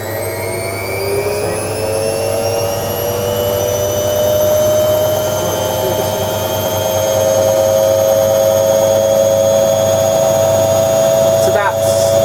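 A Hoover Logic 1300 washing machine spins laundry at 800 RPM, a loud steady whine with rising tonal hum that holds throughout, close by, with people talking faintly over it.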